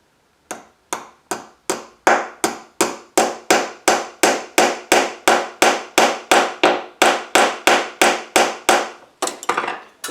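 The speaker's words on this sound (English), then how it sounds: "Right, and hammer it down." Sharp, regular hammer taps setting small metal rivets on a model ship, about two per second, close and loud, continuing steadily with no talking.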